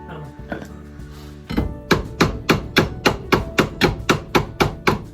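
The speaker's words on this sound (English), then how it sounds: "I might have to come back to you in a minute when I've hit it with a hammer a few times" A run of about a dozen sharp hammer blows on metal at a steady, even rhythm, following a few scattered knocks and clatter.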